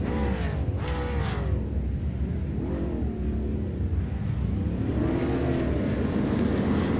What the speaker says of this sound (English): Revs are rising.